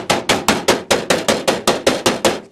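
A hammer strikes sheet metal laid on a metal block, about a dozen loud, sharp clanging blows in a steady, even rhythm, each ringing briefly before the next.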